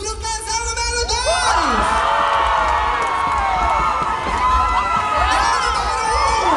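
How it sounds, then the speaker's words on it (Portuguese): An audience cheers, whoops and yells for couple number two at a lively contest event, a dense, loud roar of many voices with whistles rising over it throughout. "Cadê os aplausos pro casal número 2?"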